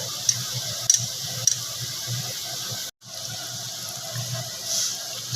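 Dal puri fry in hot oil in a wok, giving a steady, close, soft crackling hiss with a few faint clicks and a brief dropout midway, no talk.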